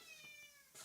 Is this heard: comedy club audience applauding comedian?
no